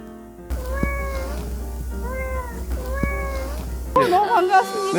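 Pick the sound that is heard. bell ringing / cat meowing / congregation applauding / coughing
cat meowing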